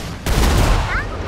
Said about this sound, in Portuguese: Vai ser efetuado um disparo.